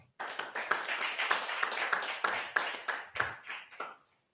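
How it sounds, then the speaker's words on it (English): At a land surveying seminar, a modest audience gives a round of clapping, fairly quick and slightly scattered hand claps for about four seconds before stopping abruptly. "Can we give him another clap?"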